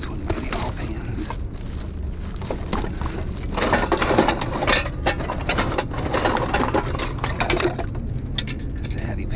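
Metal kitchen pans and plates clanking and scraping while being handled during curbside scrap collecting outdoors, a steady run of close clatters and knocks with a person talking.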